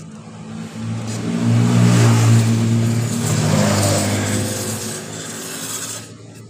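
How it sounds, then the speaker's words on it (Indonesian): Sandpaper scraping the inside of a Honda Genio scooter clutch bell, a loud, continuous close rasp with a low metallic ring underneath, holding steady for several seconds. "Kemudian bagian lonceng pun kita amplas"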